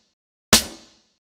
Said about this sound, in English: The snare sample unaffected sounds like this.